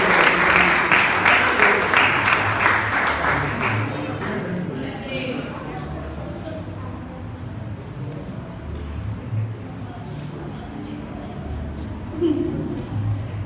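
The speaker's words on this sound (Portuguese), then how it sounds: "Vamos aplaudir a Jesus pelos aniversários deles." Church congregation applauding, a loud burst of clapping for the first few seconds that fades out, followed by quieter murmuring and low voices in the room.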